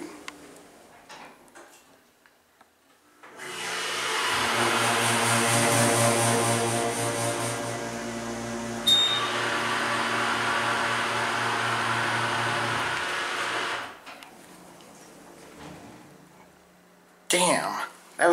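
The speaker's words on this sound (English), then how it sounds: "Damn, that was a loud motor." An Otis Hydrofit machine-room-less elevator at a Comfort Inn in Dickinson, North Dakota, runs its motor in a loud, steady, droning hum lasting about ten seconds before stopping, with a click midway and faint talk around it.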